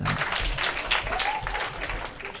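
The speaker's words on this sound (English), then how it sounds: "let me just listen to that again to get the proportion of laughter versus claps" Audience applause from a comedy performance plays back at a fairly low level, a dense patter of many hands clapping steadily for a couple of seconds.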